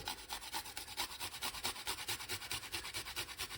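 A piece of fresh ginger rubbed quickly over a simple grater, making a fast, even series of close, rasping strokes that go on without a break and with no talking.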